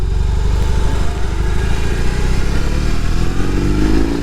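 A BMW R18 cruiser motorcycle's engine pulls steadily while riding on the road, making a loud, close, continuous low throb with rising rumble toward the end.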